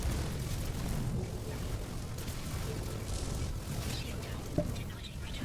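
Gunfire and explosions in a space combat video game as a capital ship's defense turrets are destroyed, a continuous rumbling barrage of booms with one sharper pop near the end.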